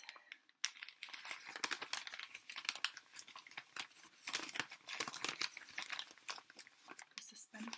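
Paper wrapping around a mail-ordered houseplant is crinkled, rustled and torn open close up, a busy stream of crackling handling sounds with a voice speaking at times.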